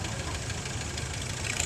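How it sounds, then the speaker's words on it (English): A restored 1948 W4 standard tractor runs continuously, its engine giving a steady, rough, rumbling idle with a mechanical clatter. It stays at an even level throughout, fairly close, with no talk over it. "This is a W4 1948. Nice little standard tractor."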